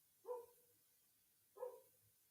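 Dogs bark twice, well spaced and faint, as if from another room, over a quiet background.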